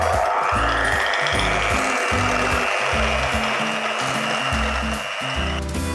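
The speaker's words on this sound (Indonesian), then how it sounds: "saya nggak pakai standing mixer, saya pakai mixer tangan" Electric hand mixer whirring steadily as it beats egg yolks with sugar for a mousse cake, a continuous motor drone with rhythmic low bumps from the beaters knocking the bowl, loud and close throughout.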